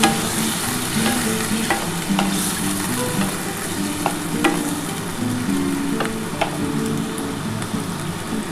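Bitter gourd slices frying in a pan as a little water goes in, giving a loud, continuous hiss and sizzle. Scattered clicks of stirring come through close up, and nobody speaks.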